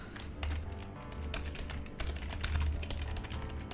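Computer keyboard typing during coding of a 3D cellular automata program on Windows XP, a steady stream of close, moderately loud key clicks with irregular rhythm, heard alone without talk.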